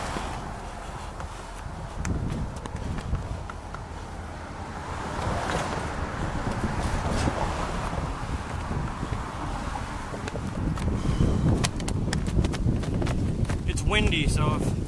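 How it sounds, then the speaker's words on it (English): Steady outdoor wind buffets the camera on a walk with a dog in Chattanooga, rumbling throughout and growing stronger near the end, with no one talking. "It's windy, so if the camera gets blown around a lot"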